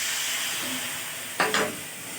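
Spices for palak paneer, with chilli and turmeric, sizzle in a pan as a steady close hiss, broken by one short louder burst of frying, with no talk.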